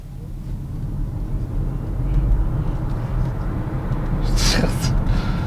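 A 2022 Volvo XC40 Recharge electric SUV accelerates hard from a stop sign, filling the cabin with a steady, building roar of road and wind noise and a brief higher whine near the end.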